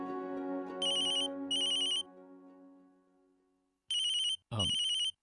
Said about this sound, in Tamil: இதோ மோகனே ஃபோன் பண்ணிட்டான்